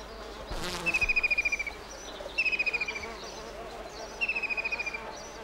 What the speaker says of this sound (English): The supply of insects is unceasing, and they look to the orchids as one source of liquid energy.